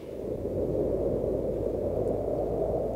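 Wind blowing as a continuous roaring rush, a dense low-to-mid whoosh that holds steady and fairly loud for the whole stretch, without voices.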